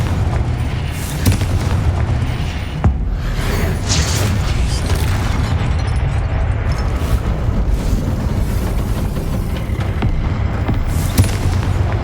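A Confringo fire spell detonating in the Hogwarts Legacy video game, heard as a dense, rumbling blast of booms and crackling debris that roars on steadily for several seconds, loud and close.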